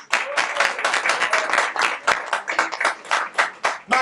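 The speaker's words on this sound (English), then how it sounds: "Now, clap for the campaign boss lady, Eugénie Monpremier" An audience claps at a campaign kick-off event, loud and close, with scattered uneven claps that come in short bursts and fade between them.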